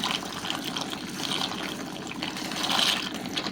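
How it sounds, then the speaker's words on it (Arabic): Dried pasta slides into a pot of boiling water on the stove, a brief watery splash and gush followed by bubbling, close and moderately loud. "على النار فيها ميه بتغلي، هنزل بكميه المكرونه اللي معايا"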